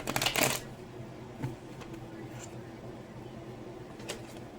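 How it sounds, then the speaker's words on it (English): Tarot cards are shuffled close by, with a quick riffling burst at the start, then soft sliding and shuffling and a few light taps. "Let's push these cards back so I can shuffle."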